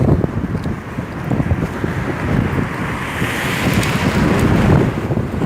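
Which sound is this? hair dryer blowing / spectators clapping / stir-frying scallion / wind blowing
wind blowing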